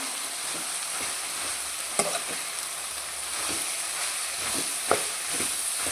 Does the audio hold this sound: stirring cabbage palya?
yes